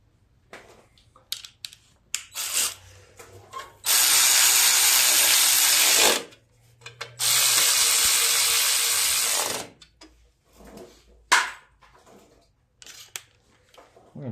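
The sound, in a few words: ratchet wrench tightening bolts on riding lawn mower carburetor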